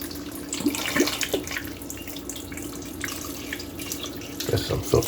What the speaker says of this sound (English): Got some filtered water in here.